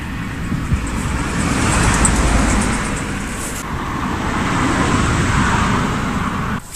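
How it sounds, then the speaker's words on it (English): Night traffic on an A road makes a continuous loud roar of passing vehicles, swelling and easing as cars go by close at hand, with no speech over it. "it's 11 o'clock at night and there's still a fair amount of traffic on the A road"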